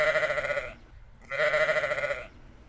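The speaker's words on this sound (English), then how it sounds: "The sheep said, "Baa, baa."" Two drawn-out sheep bleats, each lasting under a second, separated by a brief silence and heard clearly and close.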